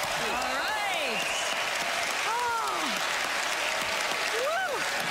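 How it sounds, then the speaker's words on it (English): Studio audience applauding a magic act on a televised magic competition show, steady dense clapping throughout with a host's voice and cheers over it. "Give these guys a round of applause."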